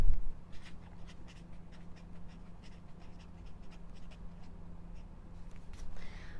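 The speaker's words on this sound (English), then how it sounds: "So let me just write this down." A pen scratches across paper close by in quick, irregular strokes as notes are written by hand, faint over a steady low hum.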